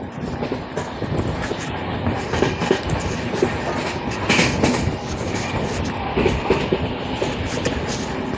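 A special train hauled by two engines passes close by, a steady loud roar of rolling wagons with rhythmic clickety-clack of wheels over rail joints throughout.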